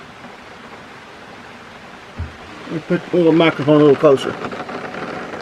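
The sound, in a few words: rain falling outside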